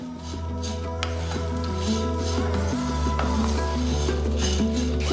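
Curry leaves dry-roasting in a pan for idli podi, stirred steadily, with soft scraping and faint crackle over a constant low hum for the whole stretch.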